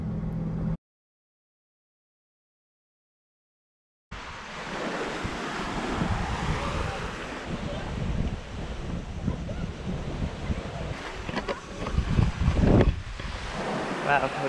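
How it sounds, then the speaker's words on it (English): Surf breaking on Cocoa Beach in Coron, Palawan, a tropical island shore, with steady wave wash and some wind rumbling across the microphone after a brief silent break near the start. "So this is Cocoa Beach, I believe."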